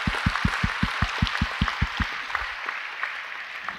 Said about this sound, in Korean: 우리 그 하나님 아버지께 감사와 영광의 박수 올려드렸으면 좋겠습니다.